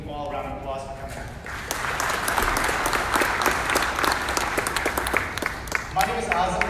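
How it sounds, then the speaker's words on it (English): At a 2020 community meet-the-candidates forum, a room full of people claps after a brief spoken thank-you, the applause rising into a moderate burst of many hands before a voice resumes talking at the end. "I'd like to give you all a round of applause for coming"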